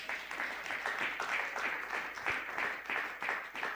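A church congregation applauds during a Sunday worship and thanksgiving service, giving a sustained, dense round of clapping that stays fairly even and loud from start to finish.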